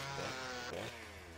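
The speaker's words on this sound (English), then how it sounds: "Let's use the chainsaw." A chainsaw in the video game Downfall revs with a steady buzzing drone that swells twice in quick succession before settling to a lower idle, loud and close, with no voices.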